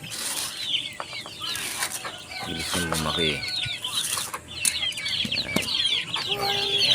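Chickens cluck and three-week-old ducklings peep in a busy coop at feeding time, with wing flaps and someone speaking briefly over the chatter.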